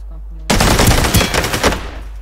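Loud, close gunfire in the video game Ring of Elysium: a sudden burst of rapid automatic shots that fires for about a second and a half, then trails off.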